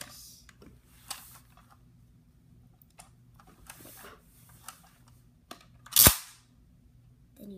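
A Nerf toy blaster is handled with faint clicks and rattles of loading, then fires once with a sharp, close snap, in an otherwise quiet room.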